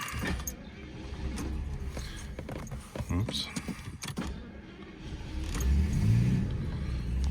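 A 1986 Jaguar XJ Series 3 Sovereign with a 5.3-litre V12 is started after clicks and handling noises, and a low engine rumble builds toward the end. Someone speaks briefly.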